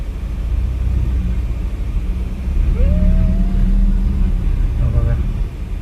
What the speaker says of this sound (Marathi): बघा, गाडी चालू आली आणि आम्ही चाललोय सरळ